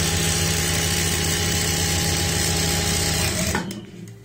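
A sewing machine stitches a double seam on a blouse, running in a loud, steady mechanical whir at close range before stopping abruptly near the end.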